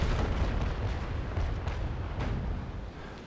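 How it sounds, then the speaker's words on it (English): A broadside from the warship Niagara in the naval combat game Naval Action rolls out as a continuous heavy rumble of overlapping cannon booms, loud and close, slowly easing off. "I'm now aiming for straight up broadside and fire"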